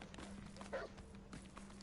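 Dogs in the video game Hogwarts Legacy bark and yip during a fight, a short, faint burst of canine noise under a steady background tone.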